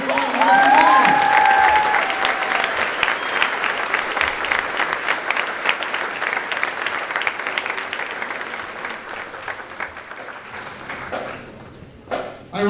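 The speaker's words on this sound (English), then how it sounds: "Let's give another round of applause for the Spirit Squad and Marching Band." A large crowd at a school general assembly applauds the spirit squad and marching band, loud sustained clapping with some cheering that gradually thins and fades toward the end.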